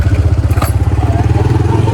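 A Discover motorcycle runs close by on the road, its engine giving a loud, steady, throbbing putter that fills the whole stretch.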